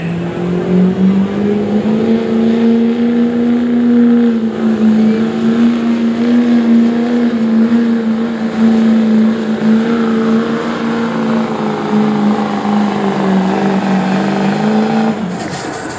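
A 2005 Chevrolet pulling truck at an Ohio truck and tractor pull, its engine roaring loud and steady at high revs for the whole pull, close by, with no talk over it.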